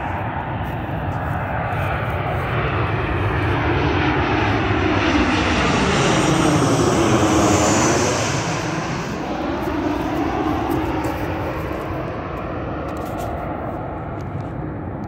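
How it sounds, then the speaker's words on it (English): A Southwest Airlines Boeing 737 landing at MCI airport: a loud, steady roar of jet engines that swells as the plane passes close by, then slowly fades and settles into a lower rumble. "we got this Southwest Airlines 737 landing at MCI."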